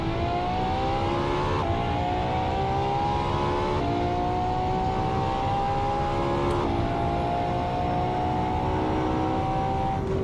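A LaFerrari engine in Assetto Corsa revving loud and steady, pitch climbing through each gear, then dropping briefly at the shifts before rising again, with no talk over it.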